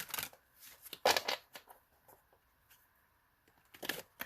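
A deck of tarot or oracle cards being shuffled for a card reading, crisp riffling bursts near the start, around one second and again near the end, separated by quiet gaps.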